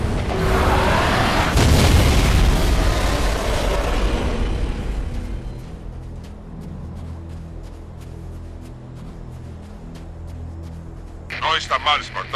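A loud boom from the Halo video game fills the first few seconds with a broad rumbling blast that slowly decays into a low drone, with brief crackles near the end.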